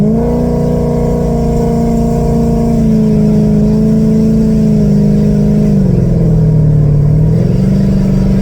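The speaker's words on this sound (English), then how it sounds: "I can kind of give you an idea of what the acceleration is going to sound like and feel like" A C6 Corvette engine revs loudly and steadily from close by, its deep drone holding for several seconds before dipping and climbing again, with no talking.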